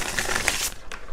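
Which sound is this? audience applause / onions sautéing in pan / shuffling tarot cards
shuffling tarot cards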